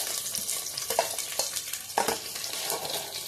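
Onion and green chili pieces fry in hot oil for a paneer biryani, a soft steady sizzle broken by a few sharper stirring clinks, close but quiet.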